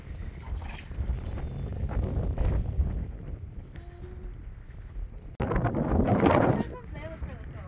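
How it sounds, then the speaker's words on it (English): Gusty wind buffets the microphone in uneven bursts, loud and close, with a sharp break partway and a strong gust after it, by rock pools on the coast at Broome. "It's pretty windy, eh?"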